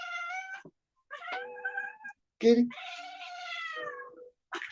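A pet cat gives several drawn-out, wavering meows, close and fairly loud, with short pauses between them and a brief spoken line mixed in.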